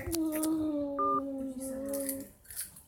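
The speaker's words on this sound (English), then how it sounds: "someone called my phone" A phone's electronic tone sounds from a handset during an incoming call: a few steady beeping notes, faint and nearby, heard alone before a short bit of noise at the end.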